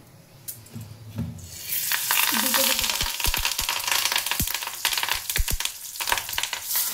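Pomfret paturi, fish wrapped in leaves, dropped into hot oil in a wok: a bright sizzle rises suddenly and keeps crackling, with dense sharp spits and pops close by after a few quieter handling sounds.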